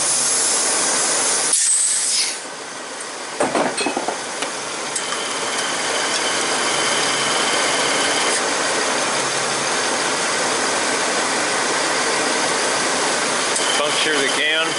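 Refrigerant from a car's A/C system hisses out as a fitting is loosened with the engine running: a loud, steady broadband spray that starts after a brief clatter and continues unbroken over the engine's hum.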